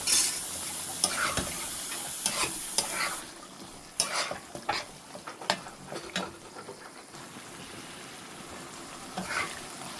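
Boiled jackfruit seeds stir-fried with spices in a pan for a shutki fish bhuna: a steady sizzle runs throughout, broken by repeated scraping of a spatula against the pan, louder early on and then continuing more softly.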